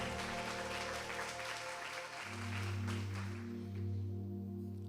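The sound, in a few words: congregation applause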